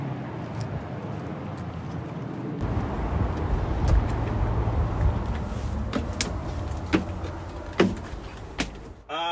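A school bus engine runs at a steady low idle rumble, close and fairly loud, with occasional clicks and knocks over it.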